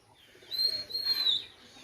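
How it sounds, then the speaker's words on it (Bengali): Soft, low cooing of a golden pigeon rises and falls over about a second, under faint chirpy background sounds. "এই যে একটা গোল্ডেন কবুতর আছে"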